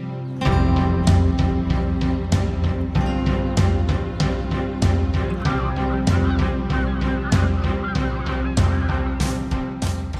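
Loud, dense honking of many geese and other waterfowl along the Kigach river in Kazakhstan's Atyrau region, a continuous overlapping chorus of calls close by, with no talking.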